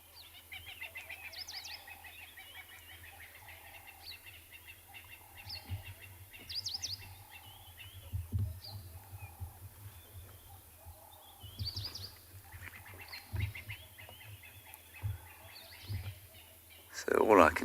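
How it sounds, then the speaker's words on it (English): A dawn chorus on a South African morning safari, with francolins, doves and hornbills: faint, scattered chirps and calls from birds at a distance over quiet background hiss, with one louder call at the end. "So all I can hear is a few francolins, doves, and lovely hornbills as well."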